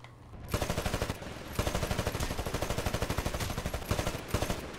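Rapid automatic gunfire from a Titanfall match, loud and close, in dense sustained bursts with brief pauses between them, no talking.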